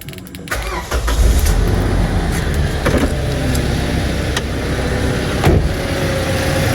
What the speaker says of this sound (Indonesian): lanjut kita bakal nyalakan mesinnya nih teman-teman. Dengerin suara mesinnya.